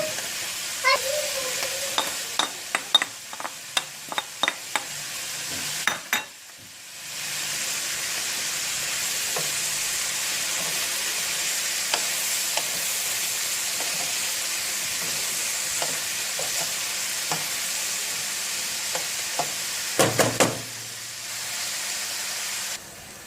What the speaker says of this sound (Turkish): soğanımız ve biberimiz de sotelendi